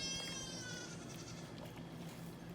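Goats kept at an RV campsite in the woods bleat faintly and repeatedly, a thin wavering cry set against a steady background hum, with no talk.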